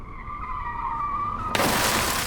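A small car's tires squeal in a sustained screech on a mountain road, then a loud crash bursts in as the car strikes a barrier, with a wash of noise after the impact.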